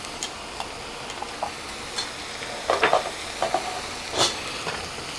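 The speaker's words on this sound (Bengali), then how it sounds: "এখন মশলাটাকে আমি ভালো করে কষিয়ে নিচ্ছি" Spice paste of turmeric, coriander and cumin sizzles as it is fried for rohu fish roe, a steady hiss broken by sharp scraping taps of a spatula on the pan, close by, with no voices.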